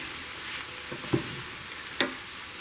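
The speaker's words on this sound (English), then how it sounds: "Now we're going to add our onions. Stir them in." Onions frying in a pan with Italian sausage give a quiet, steady sizzle, broken by a few sharp clinks of a spoon stirring them in, and no talk.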